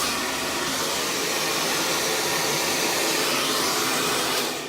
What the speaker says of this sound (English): Smoothing that, always keeping that dryer moving.